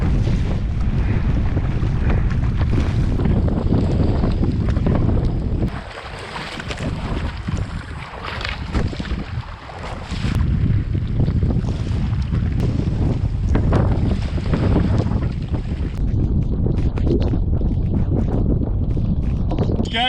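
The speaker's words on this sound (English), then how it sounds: "The waves are broadsiding us" Wind and waves on a wilderness lake during a small-boat crossing in the rain, a continuous loud blustery roar with sloshing water, dipping briefly midway before rising again.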